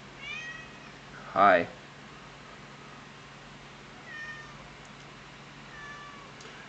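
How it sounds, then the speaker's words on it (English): A house cat lets out a single loud, rising meow close by, followed later by a couple of fainter meows, while a person speaks nearby over a low steady hum. "Yes, I hear you, cat."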